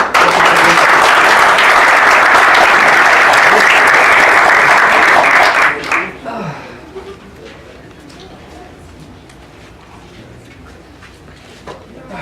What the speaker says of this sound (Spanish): Yo les ruego que me acompañen en un aplauso de agradecimiento a Steve